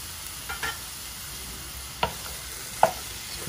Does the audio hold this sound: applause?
no